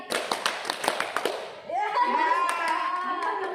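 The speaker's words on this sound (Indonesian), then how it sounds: "Tepuk 1 kali. Tepuk 2 kali. Tepuk 3 kali. Tepuk 4 kali." A group of students in a small classroom counseling session claps hands in counted bursts, sharp separate claps in short sets, followed by voices talking and singing together.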